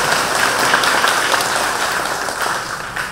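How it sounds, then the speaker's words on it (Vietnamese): A church congregation applauds during a Catholic thanksgiving Mass at a parish in Vietnam, a steady, dense wash of clapping that holds loud and even for about three seconds before easing slightly. "Xin cộng đoàn dành một tràng pháo tay để chào đón ngài."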